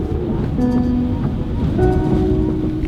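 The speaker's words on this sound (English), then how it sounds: "We got waves." Waves driven by Hurricane Dorian churn near a boathouse in a loud, constant roar of surging water and wind, with low tonal hums running underneath.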